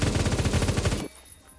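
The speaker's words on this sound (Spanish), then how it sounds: "Porque el hecho de que yo pueda poner mi arma a dispararse," Rapid automatic gunfire from a weapon in the online shooter Phantom Forces, a loud steady burst of shots that cuts off abruptly after about a second, leaving faint background hum.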